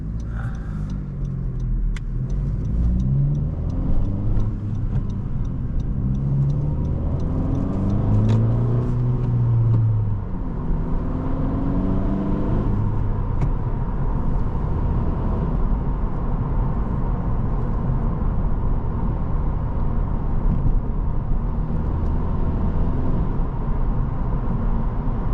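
A bone-stock 2018 Honda Civic Si engine drones steadily at close range from inside the cabin, rising in pitch under acceleration and then holding a long even hum with road rumble.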